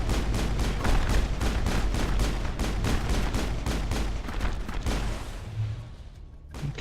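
Turrets in the Mass Effect game firing rapid regular bursts of gunshots, a steady rattling stream of close, loud shots that thins out and stops near the end.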